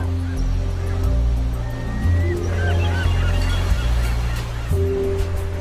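Seagulls call over a lonely California beach near Morro Bay, with surfers nearby: repeated honking cries, some near and some farther off, over a steady wash of surf.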